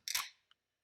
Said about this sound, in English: I'll do my clap.